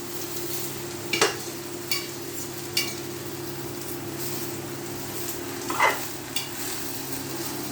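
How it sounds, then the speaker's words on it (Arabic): Food stirred briskly in a frying pan with sugar cooking, a soft steady sizzle under a few sharp scraping clicks of the utensil against the pan. "نقلب كويس جدا"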